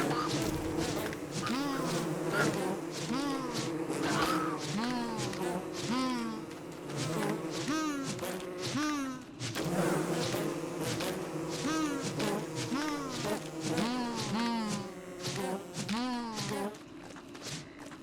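Bees buzz in the video game Don't Starve, a continuous droning hum that lasts throughout, layered with warbling tonal game sounds at a steady, moderate level.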